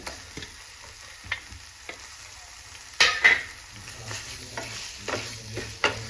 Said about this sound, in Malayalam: എന്നിട്ട് നല്ല രീതിയിൽ നമുക്കൊന്ന് യോജിപ്പിച്ചെടുക്കാം